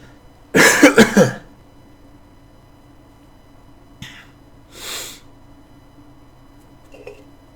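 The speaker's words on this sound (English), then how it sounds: "I'm gonna cough." A person gives a quick burst of four or five loud, close coughs while narrating Minecraft gameplay, then goes quiet apart from a couple of softer breathy sniffs a few seconds later.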